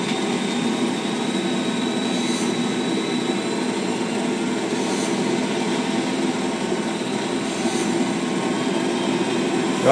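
A helicopter in the video game Spec Ops: The Line gives off a loud, continuous engine and rotor roar that holds steady throughout.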